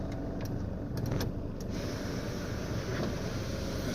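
Electric sunroof motor in a Dodge Dart Rallye running steadily, a continuous low hum and whir that stays at an even level throughout, with a few faint brief clicks early on and no talking.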